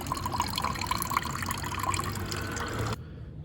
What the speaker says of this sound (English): Draining the radiator.